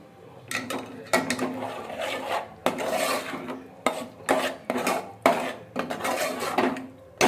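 A ladle clatters and scrapes against a metal pot in bursts as jaggery is stirred into amti, a Maharashtrian lentil curry, with short pauses between strokes.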